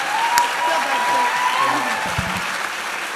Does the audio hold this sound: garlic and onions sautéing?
no